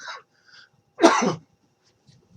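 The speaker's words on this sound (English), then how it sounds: "I didn't have to fake that cough." One sharp, close cough bursts out, briefly and loudly, between short stretches of quiet with faint bits of other sound around it.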